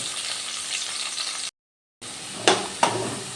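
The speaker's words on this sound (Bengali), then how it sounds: "আলুগুলো এবার ভালো করে ভেজে নেব" Cut potato cubes crackle in oil with a soft, continuous sizzle, cut by a brief half-second gap of silence, then two sharp knocks of a spoon against the pan; no voices.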